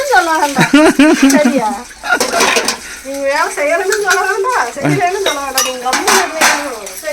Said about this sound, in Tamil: பாத்திரம் கழுவுறியா பாரப்பா